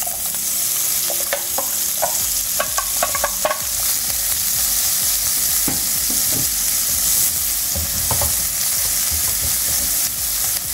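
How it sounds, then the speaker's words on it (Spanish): Onion sautéing in vegetable oil in a frying pan, stirred continuously: a steady close sizzle with scattered scraping and clinking of the utensil against the pan throughout, with no talking. "Y aquí vamos a sofreír la cebolla."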